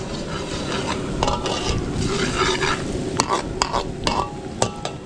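Garlic frying in butter in a pan, a steady close sizzle with occasional stirring and scraping clicks of a utensil against the pan throughout.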